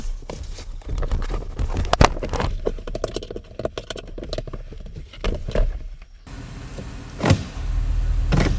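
A Mitsubishi Lancer, heard from close inside, gives off a run of mechanical clicks and thumps, then the steady whir of a power window motor, ending with a brief knock.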